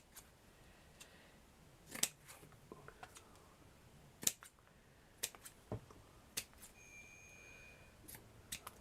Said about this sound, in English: Just going to cut them how I want them.